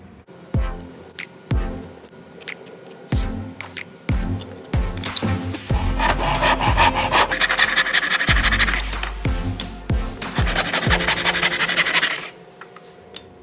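A saw cuts through walnut wood, first with a series of short, separate rasping strokes and knocks, then a sustained stretch of steady, loud scraping cutting that ends abruptly, with no talking.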